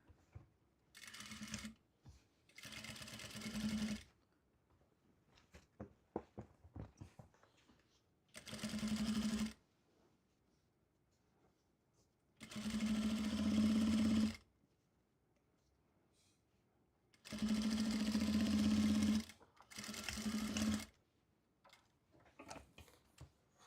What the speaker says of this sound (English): Just gonna add a little top stitch so that way it sits better.